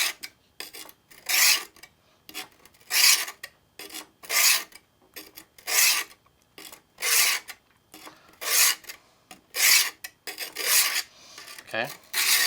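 A kitchen knife is drawn repeatedly across a Gordon four-sided diamond grit sharpener, giving about a dozen bright, rasping strokes in a steady back-and-forth rhythm with short pauses between them. The sound is close and clear, with no talk.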